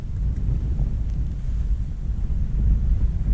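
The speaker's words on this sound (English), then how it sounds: "It's getting too windy." Wind gusting over a frozen lake during ice fishing on Lake Manitoba, a steady low roar and buffeting on the microphone that swells toward the end, with no talk.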